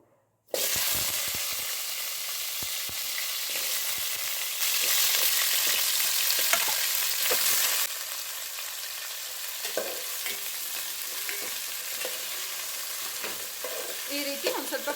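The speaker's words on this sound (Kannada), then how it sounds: "ಫ್ರೈ ಮಾಡೋಣ ಒಂದು ಎರಡು ನಿಮಿಷ ಈ ರೀತಿ ಎಣ್ಣೆನಲ್ಲಿ ಫ್ರೈ ಮಾಡಿ ಸಾಕು" Cut drumsticks and potatoes drop into hot oil and fry with a loud, continuous close sizzle that surges, then settles into steady crackling with occasional stirring scrapes.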